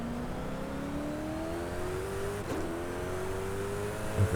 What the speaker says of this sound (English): So let's try the Koenigsegg and see what sort of speed I can get with this thing.